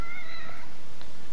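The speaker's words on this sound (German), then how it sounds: "Gott sei Dank ist hier die Katze wieder," A cat in The Evil Within game meows loudly and close, a drawn-out tonal cry followed by a shorter fainter call, set against a dense steady background.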